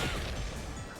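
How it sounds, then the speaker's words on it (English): A fiery bomb explosion in Bomberman Generation, a loud, dense, rumbling crash that fills the whole moment and eases off slightly at the end, with no talking. "Getting caught up in that fiery explosion sucks."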